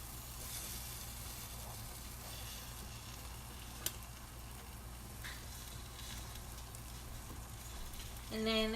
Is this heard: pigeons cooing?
no